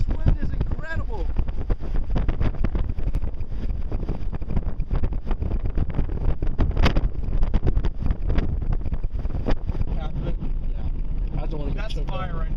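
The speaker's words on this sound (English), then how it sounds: "This wind is incredible." Strong wind gusting across the microphone during a Texas Panhandle wildfire, loud continuous buffeting roar and rumble filling the whole stretch, with voices faintly audible beneath it.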